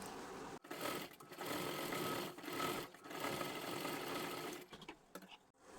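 A sewing machine runs a double line of stitching along a flared sleeve for a little girl's frock, chattering in close, rapid runs broken by brief pauses.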